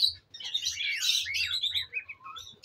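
Lovebird chicks and parents chirp in a breeding box, a close, busy cluster of high twittering and peeping calls with no talk.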